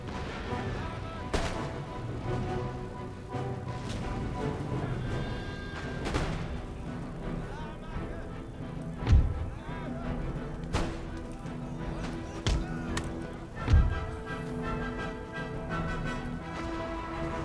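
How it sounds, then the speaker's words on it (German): Cannons and musket gunfire crack and boom in an Empire: Total War battle, with scattered sharp shots and a few heavy low blasts over a steady battlefield backdrop while a commentator talks throughout. "Jetzt wird hier auch endlich mal geschossen."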